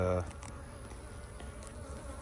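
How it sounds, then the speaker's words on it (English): Honeybees buzz densely around an opened hive as a beekeeper works the frames. The drone is close and continuous, with a brief loud burst at the start. "they're probably buzzing the camera, they're buzzing me"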